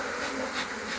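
Honey bees hum in a steady, dense buzz at an open Langstroth hive with cross-combed honeycomb, close and continuous for about a second with no voices.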